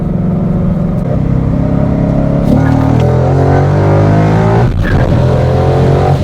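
A Ford Mustang GT S550 with an MT82 manual gearbox, tuned to run on E85, accelerates hard, its loud V8 roar climbing in pitch through the revs, shifting at about two and a half seconds and again near five seconds, heard from close range.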